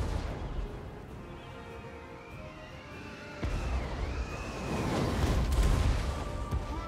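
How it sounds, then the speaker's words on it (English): Heavy rumbling booms and crackling blasts of rocket battery artillery fire in Total War: Warhammer, Dwarfs against Empire, building in intensity over a low continuous roar of battle. "Rocket battery is still hammering on that cannon pretty heavily."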